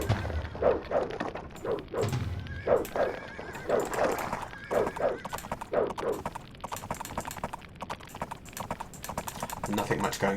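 Horses neighing and whinnying repeatedly amid clip-clop hooves in the Age of Empires real-time strategy game, a string of short whinnies over a busy background while someone talks.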